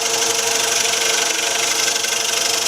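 A spindle gouge cuts wood on a spinning lathe while removing a tenon, giving a steady, loud, even scraping hiss over the motor's hum, unbroken throughout.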